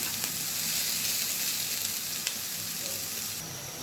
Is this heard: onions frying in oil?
yes